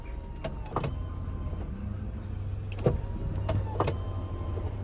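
The power window motor of a BMW E36 whines steadily under a constant low car hum, with several short clicks and taps as the glass is coaxed upward, close inside the car.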